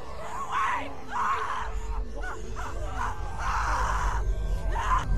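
In a Walking Dead scene, a girl screams for help in repeated long, strained distant cries separated by short pauses, with low rumbling background noise beneath.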